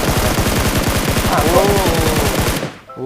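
Rapid automatic gunfire in PUBG Mobile, rounds striking a wall in a loud continuous close burst of evenly spaced shots lasting over two seconds, then cutting off abruptly.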